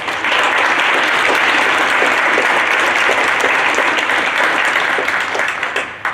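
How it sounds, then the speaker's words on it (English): A high school audience at a 2021 senior scholarship recognition ceremony applauds for several seconds, a dense, steady wash of many hands clapping that tapers off slightly at the end. "Let's give them a round of applause as well."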